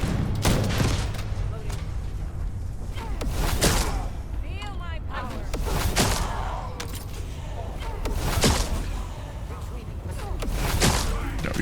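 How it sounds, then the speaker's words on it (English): Gunfire from the video game The First Descendant, shooting barrels: repeated sharp shot bursts and thuds over a busy game soundscape, fairly loud and close. "Gonna shoot the barrels here."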